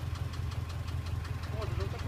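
Subaru EJ206 engine idling with a steady, rhythmic knock ticking through its low running hum, recorded up close with no one talking.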